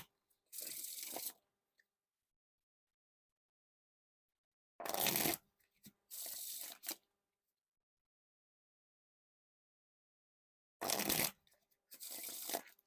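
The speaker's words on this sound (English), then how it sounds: "Now time for the riffle shuffles," Three separate bursts of riffle or bridge shuffling with Notorious Gambling Frog playing cards, each a quick crisp fluttering ripple of cards interleaving, close and clear, split by long stretches of silence.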